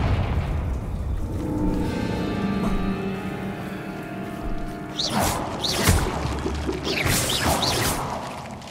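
A Confringo blast spell from Hogwarts Legacy, with whooshing magical bursts and crackles after a sustained shimmering tone, landing several times in quick succession at moderate loudness.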